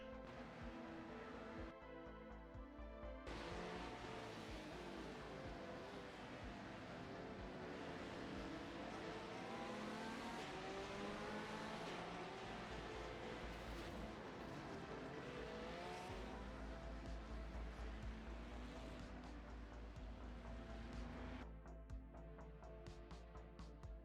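A race car drives on track in review footage, its engine droning steadily and loudly throughout, with shifts in pitch as it lifts off and brakes, and a brief change in tone near the start and end.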